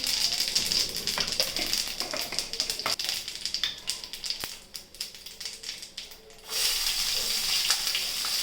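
Mustard seeds and cumin sizzle in hot oil with a bright, crackling fizz and sharp popping bursts that fade midway, then a loud steady sizzle returns.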